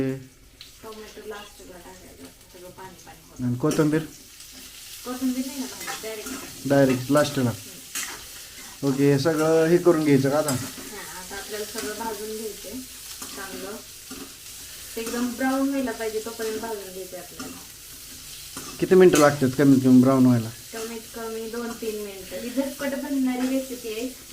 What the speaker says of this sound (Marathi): तर मित्रांनो चालू आहे आता आपलं फ्राय करायला